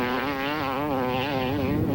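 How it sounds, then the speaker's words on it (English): Danny Hamel's off-road race vehicle engine runs hard and unbroken over rough dirt ground, a loud, close, wavering buzzing drone with no letup. "Listen to the engine."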